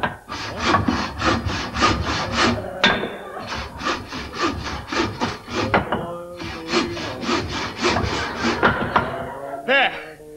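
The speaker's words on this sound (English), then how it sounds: "We'll saw the legs off." Rhythmic back-and-forth sawing through the wooden legs of a piano, used as a comedy sound effect, loud and close in quick repeated strokes with brief pauses between bursts.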